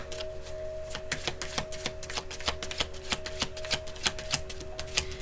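Tarot cards shuffled in a steady run of crisp, quick riffling flicks at close range, no voices, with a faint steady hum underneath.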